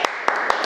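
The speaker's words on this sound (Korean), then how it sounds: "혼자 박수치고 혼자 환영하고" One person clapping hands, four quick sharp claps in an even rhythm, close and fairly loud with no other sound between them.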